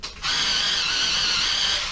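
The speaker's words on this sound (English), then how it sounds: "Excuse the noise of my electric sharpener" An electric pencil sharpener whirs with a high grinding buzz, starting abruptly and running steadily, close and fairly loud.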